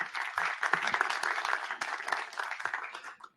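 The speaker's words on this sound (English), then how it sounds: "Please welcome him with applause." A conference audience applauds to welcome a keynote speaker at a Paris 2024 Olympic and Paralympic Games cybersecurity session: a steady wash of many hands clapping that thins out and stops abruptly at the very end.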